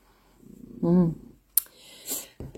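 A cat purrs briefly with a low, rumbling vibration close by, followed by a few soft rustling and handling noises.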